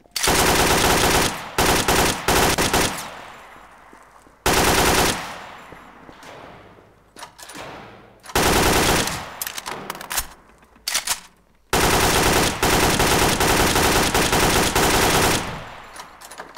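Machine gun fire in the game Garry's Mod rattles in loud, rapid bursts, four long volleys of several seconds each separated by short gaps, up close and dominating everything else.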